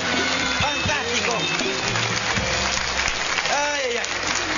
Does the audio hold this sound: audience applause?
yes